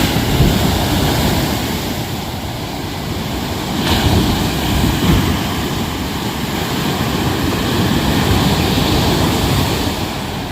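Large sea waves roll and surge around a small fishing boat heading home in rough water, a continuous loud rushing wash mixed with heavy wind buffeting the microphone.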